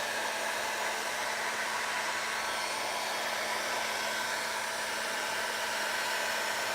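A heat gun blows steadily for several seconds while drying paint, a loud, even, continuous hiss-roar with no talk over it.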